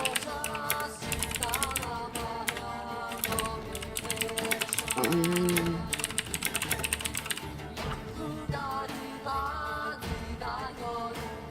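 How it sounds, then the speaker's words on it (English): Loud, rapid typing on a computer keyboard carries through an online tabletop roleplaying session, a dense clatter of key taps running continuously under background music and occasional voices. "we can all hear you typing very loudly as a stream"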